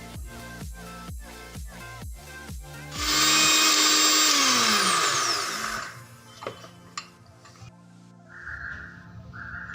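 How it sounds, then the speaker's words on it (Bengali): A mixer grinder's small jar grinds about 18 to 20 dry cashews with poppy seeds into powder, running as one loud, high whirring burst for roughly three seconds after a series of rhythmic clunks, then settling into faint rattles. "মিক্সির ছোট বাটিটা নিয়েছি।"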